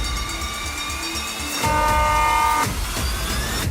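A train rolls along the rails with a loud rumble, and partway through a horn blares in a sustained chord for about a second before the running noise carries on.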